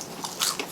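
A bite into crunchy chicharon bulaklak, deep-fried pork intestine, with a short close crisp crunch that peaks sharply in the middle and a second smaller crackle just after.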